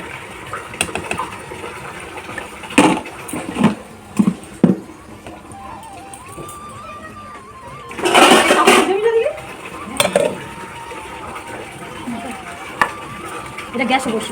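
Water poured into a cooking pot during home chicken preparation, a gushing splash around the middle, with scattered clanks of pots and utensils before and after and no talk.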